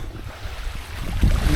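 Sea waves wash against a rocky beach in Batangas, a low rumbling surge that swells louder near the end, mixed with wind buffeting the microphone.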